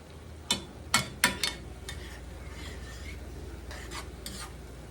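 Rice stirred in a pan with a spoon, a handful of sharp scraping clinks in quick succession, then softer stirring scrapes over a low background sizzle and hum.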